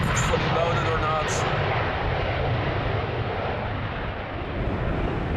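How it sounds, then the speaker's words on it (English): A Boeing 747 takes off on runway 36L at Amsterdam Schiphol in windy weather, its engines producing a loud, steady, broad roar that fades slightly toward the end. "I'm expecting a relatively short takeoff for the 747."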